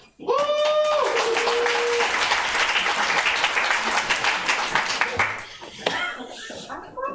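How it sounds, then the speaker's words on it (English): Audience applause at a literary showcase, a sudden swell of clapping that holds steady and loud for several seconds before tapering off into a few scattered claps and voices. "Now please give a round of applause to Editor-in-Chief David Hewlin of Airlight."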